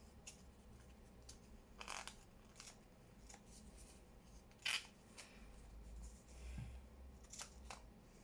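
Scissors snipping around paper for a junk journal made from altered file folders, a few quiet, sparse crisp cuts and rustles spaced out over a soft background hum, no talking.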